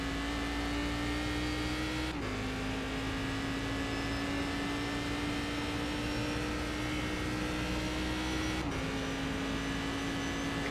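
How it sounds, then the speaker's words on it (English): Damaged Cadillac CTS-V in the iRacing sim after hitting the wall, with a steady engine drone and a constant tire-dragging scrape running loud and unbroken throughout. "I can hear a tire just dragging"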